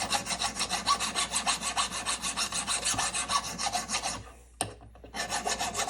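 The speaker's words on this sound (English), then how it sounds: "when I file it out, it gives it a cool highlight" A boxcar jaw harp held in a vise being filed, a fast rhythmic metallic rasp of repeated strokes, loud and close, pausing briefly near the end before resuming.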